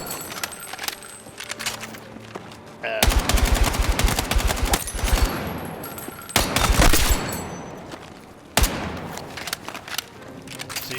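A KORD 6P67 assault rifle fires in the Battlefield 6 video game: loud, close bursts of rapid automatic fire, broken by short pauses and spread across the whole stretch.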